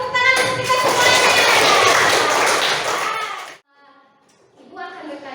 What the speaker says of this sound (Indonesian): bagi tepuk tangan untuk kita semuanya